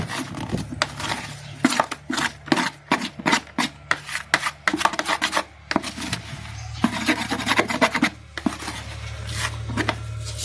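Potatoes being grated by hand to make homemade potato starch, a rhythmic rasping scrape in quick repeated strokes, close and dry, with short pauses between bursts.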